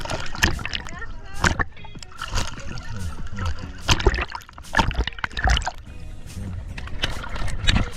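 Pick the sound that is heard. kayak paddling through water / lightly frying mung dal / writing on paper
kayak paddling through water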